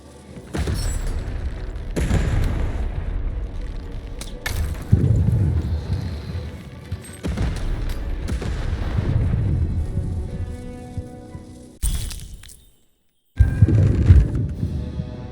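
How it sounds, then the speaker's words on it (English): In the video game Lost in Random, a cannon fires again and again: heavy booming blasts arrive every couple of seconds over a rumbling background, with a brief near-silent gap before a final shot. "Shoot the button to fire the cannon."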